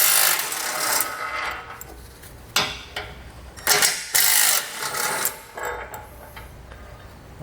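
A ratchet socket wrench, 16mm or 5/8 in., backs out the bumper bolts on a 2020 Jeep Cherokee, with bursts of clicking ratchet strokes and metallic rubbing separated by short pauses, close and moderately loud.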